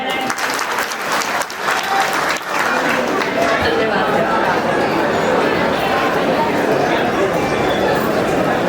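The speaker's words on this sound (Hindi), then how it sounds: "माइक देने से पहले तालियां हो जाए" Applause from the crowd at a community get-together gathering, loud dense clapping from many people that builds and holds steady, with voices chattering underneath.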